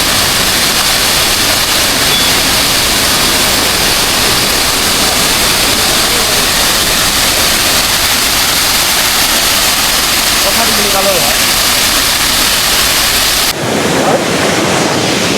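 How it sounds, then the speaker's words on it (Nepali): A monsoon-swollen stream in Sonada, Darjeeling, rushes in a loud, unbroken roar mixed with wind buffeting the microphone, then drops off abruptly near the end. "खोला हेर्नुहोस् है गाइजहरू बर्खामा यस्तो हुन्छ"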